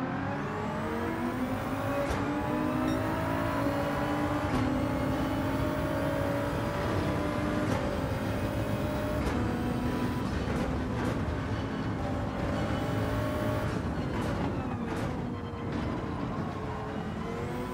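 GT3 race cars tuned to roughly 800 power points howl past on the Nordschleife straights in Gran Turismo 7, with several engines droning and shifting together in a continuous loud pack roar and occasional gear-change blips.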